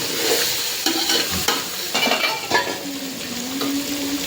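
Masala, turmeric and salt are mixed into chicken in a hot pan for biryani, a loud close sizzle with spatula scrapes and clinks against metal, no talking.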